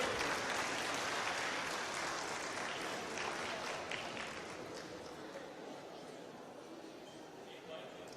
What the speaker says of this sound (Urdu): آپ کی بھرپور تالیوں کی گونج میں